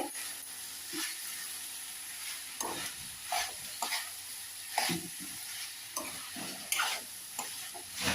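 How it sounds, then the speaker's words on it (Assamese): Chicken with banana flower fries in a pan, a steady low sizzle broken by a series of sharp spatula scrapes and stirs at irregular intervals, close and alone without any talk. "অকণমান লৰাই দিওঁ, ভাজ খাইছে"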